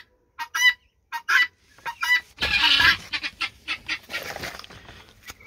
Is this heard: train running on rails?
no